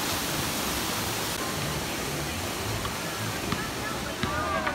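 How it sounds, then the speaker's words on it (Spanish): An artificial waterfall at the Dollywood theme park in Pigeon Forge, Tennessee, rushes as a steady, broad wash of falling water, loud and continuous, with a few faint background sounds such as distant birds or voices. "Una cascada falsa."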